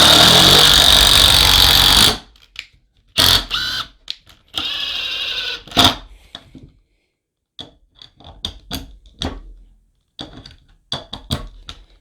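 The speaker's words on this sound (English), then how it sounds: "I'm going to be using those 2 3/8 screws to connect these 2" A driver bit driving 2 3/8 inch screws into 2x4 lumber: a loud steady whir of the drill for two seconds, then short bursts and scattered knocks and clunks of wood close by.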